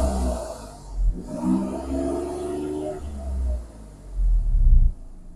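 A parked Alfa Romeo's engine is revved up close while idling, the pitch climbing in a quick surge and falling back, then a second burst of revs over a low, steady rumble.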